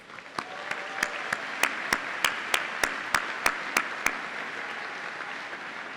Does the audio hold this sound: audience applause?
yes